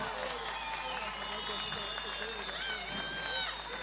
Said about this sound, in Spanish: Y que se escuchen los aplausos de Río Gallegos